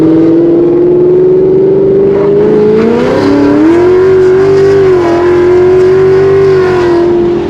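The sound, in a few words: Ford Mustang S550 engine accelerating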